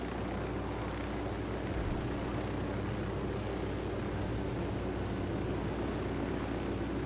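An aircraft lands in Ghost Recon Wildlands: a steady, loud engine drone with a low propeller-like hum that holds constant throughout, with no talk.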